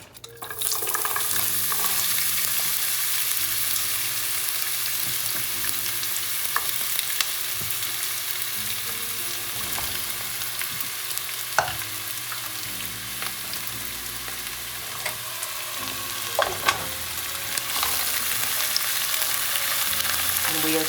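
Fresh vegetables sizzle and fry steadily in avocado oil in a skillet, a constant bright crackle with occasional stirring clinks and scrapes, close and unbroken with no talking.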